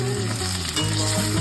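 Marinated mutton dropped into a hot pan for a pressure-cooker curry, a loud, dense, continuous frying sizzle heard close up, with no talking.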